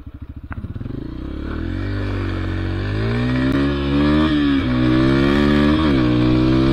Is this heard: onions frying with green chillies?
no